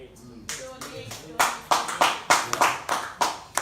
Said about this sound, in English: Everybody's clapping for you here.